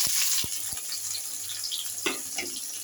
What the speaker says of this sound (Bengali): তেল আমার গরম হয়ে গেছে, শুকনো লঙ্কার পেঁয়াজটা দিয়ে দিচ্ছি।